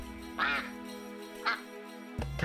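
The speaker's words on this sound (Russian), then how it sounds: "Да заткнись ты, утка!" Duck quacks from the game Gryphon Knight Epic sound in three short, nasal bursts, close and clear, over a steady humming music drone.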